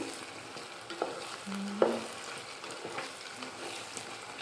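Green chilies frying in a pan for an Andhra-style elephant yam and raw mango curry, a soft sizzle with a few stirring clicks and a brief louder scrape near the middle.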